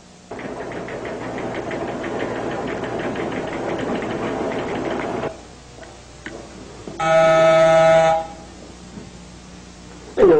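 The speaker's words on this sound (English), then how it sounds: "Where is it ringing my doorbell at this hour?" A doorbell chimes once around the eighth second with a clear, ringing tone, following a long stretch of rumbling broadcast sound and a quieter pause; nearby and fairly loud.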